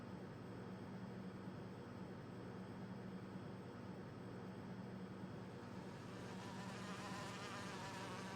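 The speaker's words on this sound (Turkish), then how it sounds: "Abi sinek sesi geliyor." A fly buzzes steadily through a Max Payne 3 game scene, a continuous droning hum sustained at an even level over a faint noisy background.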